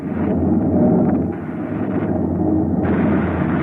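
Weapon firing in a science-fiction radio drama, a loud, sustained roaring blast that rumbles heavily for several seconds with a brief dip and surge, no voices over it.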